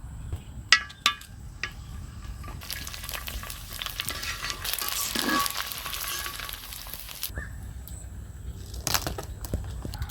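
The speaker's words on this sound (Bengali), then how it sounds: "এবার ফুচকাগুলো ভেজে নেব।" Fuchka puris frying in hot oil, with a few sharp clinks at first and then a steady sizzle and bubbling that swells, holds, and fades near the end, close and fairly loud with no voices.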